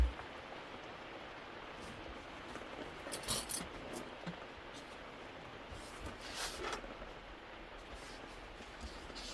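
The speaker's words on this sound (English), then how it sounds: "I don't know if you can hear the rain falling on my cabin roof." Gentle rain patters on a cabin roof, a soft continuous hiss with occasional louder drips and taps, fairly quiet and without talk.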